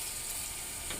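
Dried fish (shutki) being fried dry in a pan, a soft continuous sizzle and faint hiss, quiet and brief.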